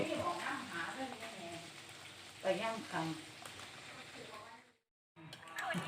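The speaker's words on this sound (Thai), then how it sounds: "ทอดปลานะครับ" Fish frying in hot oil, a sizzling crackle under a person talking, with a brief silent gap near the end before the sizzle returns.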